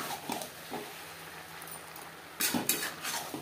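Spatula and utensil clinks against a pan as prawns are stirred in with jackfruit and potato, a few scattered scrapes and taps, louder toward the end, with no talk.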